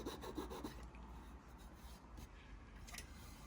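A pull saw trims wooden plugs flush on a beginner woodworking piece, giving close, dry rasping strokes in a quick rhythm at first, then steadier scraping rubs.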